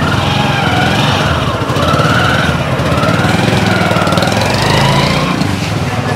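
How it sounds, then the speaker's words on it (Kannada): Motorbike engines putter and rev close by on a narrow temple-town road as bikes pass one at a time, a loud continuous drone with shifting pitch. "ಒಂದೊಂದೇ ಬೈಕ್ ಆ ಕಡೆ ಈ ಕಡೆ ಓಡೋವಂಥದ್ದು ನೋಡಿ."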